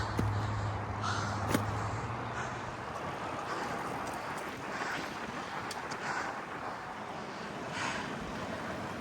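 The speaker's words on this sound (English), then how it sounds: "Look how strong that wind's blowing." Strong wind roars steadily through a narrow canyon, a dense, continuous rushing that buffets the microphone, with a brief clack near the start and no talking.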